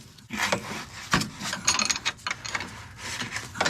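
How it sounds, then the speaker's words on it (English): Metal clutch cable lock nuts on a motorcycle being worked loose with a 17mm spanner and mole grips: close scraping, clicking and rubbing tool sounds in irregular bursts, with no talk. "I've only got one 17mm spanner here, so I'm hoping I can get on the other one with these mole grips."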